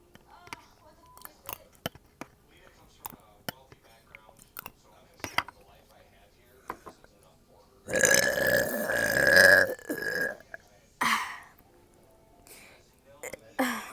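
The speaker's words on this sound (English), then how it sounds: "Now I'm gonna be burping." Up close, a person lets out a long, loud drawn-out belch and then a shorter one, with clicks, chewing and small mouth sounds filling the quieter stretches.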